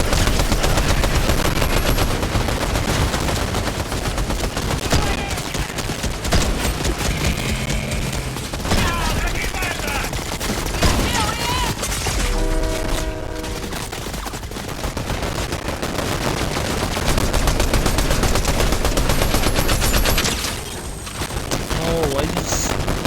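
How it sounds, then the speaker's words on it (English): Continuous gunfire in Fortnite, with dense, loud automatic bursts and rapid shots firing almost without a break and short lulls between, heard close over game sounds and talking voices. "Oh, why you just keep on firing?"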